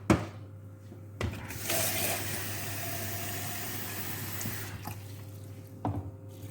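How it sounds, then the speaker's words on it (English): Water pours steadily into a cooking pot of Cameroonian plantain porridge for a few seconds, a continuous rushing splash framed by clunks at the start and end, with a low hum underneath. "we need to add in some water to the pot"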